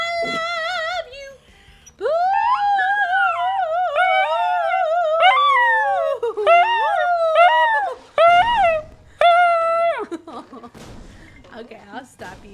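A dog howls in long wavering, singing-like notes, repeated several times with short pauses and broken by whimpers, loud and close, while a person talks affectionately to it.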